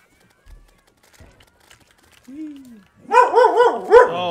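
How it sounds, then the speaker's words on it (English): Dog barking in a burst of several loud, close, yelping barks after a quiet stretch with faint background noises and a brief low whine. "why are you barking?"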